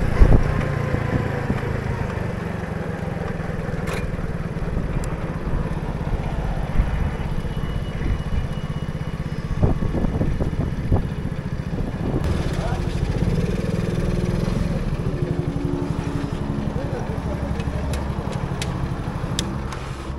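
Orion 50 moped engine running while riding, a steady buzzing two-stroke drone with slight pitch shifts throughout, close and continuous under wind and road noise.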